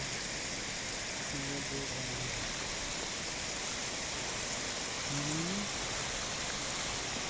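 Steady broadband rush of cold, clear flowing water along the Talakag River, constant and close, with a couple of faint brief voices barely surfacing above the wash.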